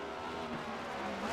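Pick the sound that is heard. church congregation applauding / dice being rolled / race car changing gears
race car changing gears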